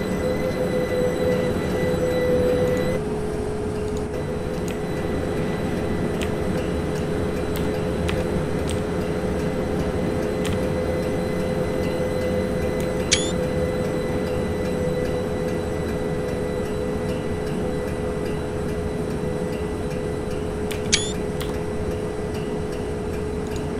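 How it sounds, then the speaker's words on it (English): A London Overground Class 378 electric train passes in Train Simulator 2019, a steady loud rumble with sustained whining tones and occasional sharp clicks over more than twenty seconds, with no voices. "I believe that's the train we're waiting for to pass"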